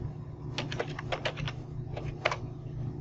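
Someone types a password on a computer keyboard: a quick run of soft keystroke taps, a brief pause, then a couple more, fairly quiet over a faint steady room hum.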